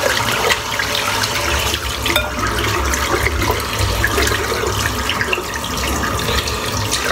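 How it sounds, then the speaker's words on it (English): Water from a bathroom tap runs steadily into a sink while shaving soap is rinsed off, a continuous close, even splashing rush with no pauses. "I'll just rinse the soap off now."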